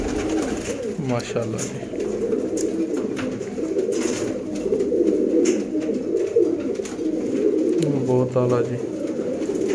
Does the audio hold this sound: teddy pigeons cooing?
yes